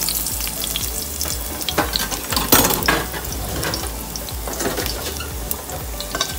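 Garlic and onion frying in a pan for a salsa, a loud, close, continuous sizzle with crackling pops and occasional stirring scrapes, no voices.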